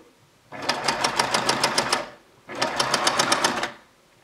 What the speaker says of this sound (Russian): И прошиваю на машинке.